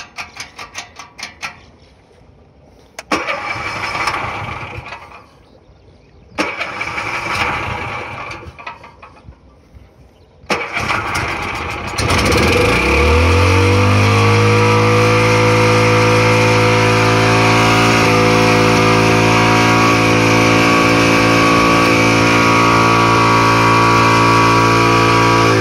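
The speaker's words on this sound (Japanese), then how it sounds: "アクセル吹けっぱなしだな。" An agricultural machine's engine, whose governor fault keeps it from dropping out of high revs, cranks with a few rattling clattery bursts, then catches and roars up to a loud, steady, high-revving drone that holds to the end.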